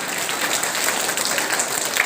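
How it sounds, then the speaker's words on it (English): Clapping from an audience at a school prize distribution for co-curricular activities, a fairly soft, even patter of many hands that stays constant and fills the room. "And everybody clap."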